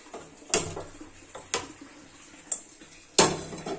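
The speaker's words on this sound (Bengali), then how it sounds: "আমি কড়াই বসিয়ে দিলাম" A metal kadai wok set down on a kitchen stove while vegetable curry is prepared, heard as a few sharp metallic clanks and knocks spaced about a second apart, close and fairly loud with no talking.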